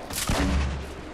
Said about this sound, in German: Jetzt geht's los mit meinem Granatwerfer.